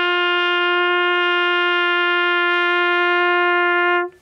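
Trumpet sounding a single sustained low G (the G below the staff's middle), held steady and clear for about four seconds before cutting off, played alone with no talk.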